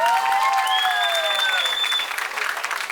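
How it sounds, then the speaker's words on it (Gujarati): Wedding sangeet crowd applauding for Hemantbhai, dense sustained clapping throughout with a musical tone ringing over it before it thins out. "ચલો તો હેમંતભાઈ માટે એકવાર જોરદાર તાળીઓ થઈ જાય"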